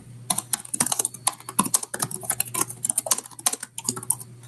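Rapid, uneven keyboard typing taken up close, a dense run of crisp key clicks and taps that continues steadily throughout with no talking.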